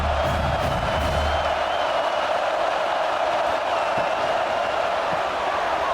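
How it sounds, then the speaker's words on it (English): Stadium crowd in EA Sports College Football 26 during an Oklahoma Sooners game, a broad sustained roar of cheering that holds steady and loud throughout. "This crowd knows when to bring it."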